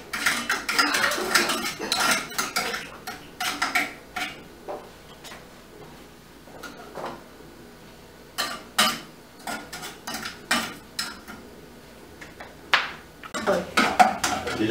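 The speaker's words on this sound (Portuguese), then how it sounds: "Assim que o açúcar estiver derretendo, você vai mexendo até ela ficar aquele caldo amarelo." A spoon scrapes and clinks against a pan while sugar melts into caramel for a bread pudding, with irregular metallic taps and stirring scrapes, some in quick clusters, close and fairly loud with no talking.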